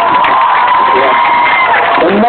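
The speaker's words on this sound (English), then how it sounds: "Give your teachers a big cheer." A school crowd of children cheers for their fifth grade teachers at an assembly, a sustained wash of shouts, whoops and mixed voices that holds steady for a couple of seconds before easing slightly at the end.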